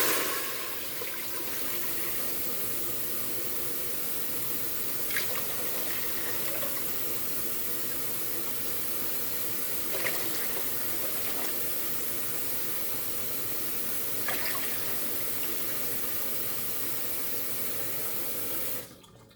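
Water streams steadily into a quart jar while measuring it out for canning syrup, a continuous hissing pour with a few faint clinks, ending abruptly.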